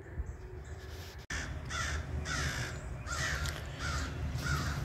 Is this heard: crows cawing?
yes